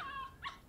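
A puppy gives a brief high whimper followed by a short yip, faint and close, over a quiet room background.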